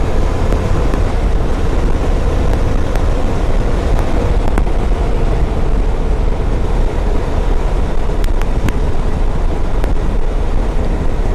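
2005 Kawasaki Vulcan 800 cruiser heard while riding, a loud continuous engine drone mixed with heavy wind rush, steady throughout with no talk.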